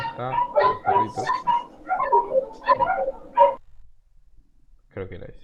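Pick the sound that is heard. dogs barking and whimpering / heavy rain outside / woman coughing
dogs barking and whimpering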